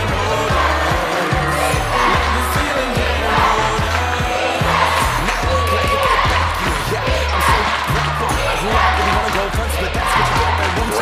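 High school Class D state final four basketball crowd roaring steadily throughout, loud and continuous with rhythmic ball bounces and a commentator talking over it.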